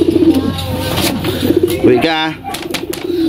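Racing pigeons coo in soft, repeated throaty murmurs close by in a loft, with a brief flutter of movement and someone speaking briefly over them.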